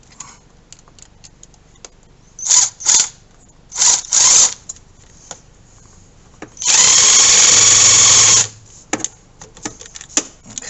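A handheld power tool tightens a fitting on a dual oil catch can kit for a 2018 Ford F150 EcoBoost, with short bursts of buzzing, a longer sustained run, and scattered clicks and handling noises between them.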